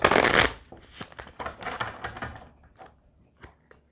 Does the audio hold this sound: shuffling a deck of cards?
yes